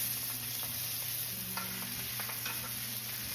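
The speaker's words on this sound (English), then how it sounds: "what I'm gonna do is just start basting" Coulotte steak sizzling in a pan with butter, garlic and thyme as it is basted, a steady quiet fry with soft spoon scrapes and spatters, no voices.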